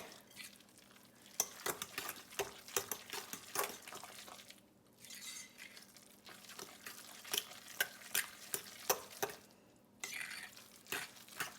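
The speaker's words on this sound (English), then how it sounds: "So we're just gonna take a large fork and mix it all together." A large fork stirring lasagna filling with eggs in a bowl, giving repeated scraping, clinking strokes at close range with brief pauses, no talking.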